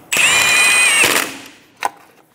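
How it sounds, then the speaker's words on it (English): A power tool snugs down the lug nuts on a 2007–2012 Nissan Altima wheel in one loud whirring burst of about a second that trails off, followed by a short second zip. "Snug them down in a star pattern to ensure that it seats square."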